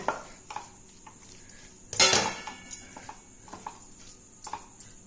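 Okra curry being stirred in a pan, with a metal spoon scraping and clinking against the pan in a series of short strokes, one louder clatter near the middle.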